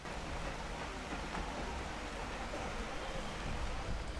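Heavy rain falling over the backwaters of Mattupetty Dam in Munnar, Kerala, a steady, dense hiss of downpour that continues unbroken and loud throughout, with no voices.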